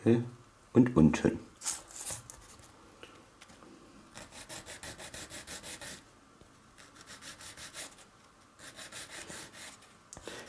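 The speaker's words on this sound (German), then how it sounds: "Ich sage mal, noch ein paar Mal schleifen" Short repeated strokes of hand sanding on a Millennium Falcon model part, a rhythmic scratchy rasp in steady runs after a few louder clicks of handling at the start, close and fairly quiet.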